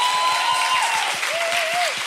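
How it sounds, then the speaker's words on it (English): A live audience at a Chicago comedy show claps in a steady, loud burst of applause with a rhythmic pulse of hands, while a drawn-out whistle or whoop rings over the crowd. "Round of applause."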